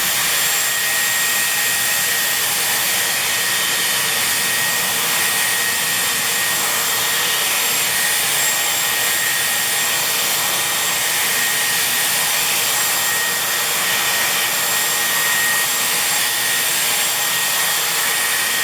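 A Dyson Airwrap styler on its high speed and high heat setting roars as a constant, loud airy whoosh close by, unbroken throughout.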